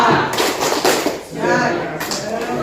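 A group performs a rhythmic cheer clap in a classroom coaching session, with bursts of patterned clapping mixed with children's voices chanting along.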